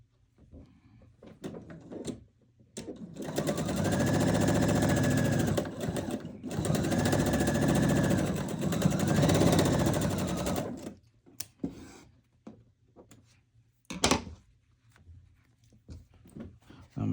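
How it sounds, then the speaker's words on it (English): Sewing machine stitching quilt fabric in two long, loud, steady runs of rapid whirring with a brief pause between them, then quieter handling noises and a sharp knock near the end, close up with no talking. "I'm gonna probably take a stitch in a little bit more."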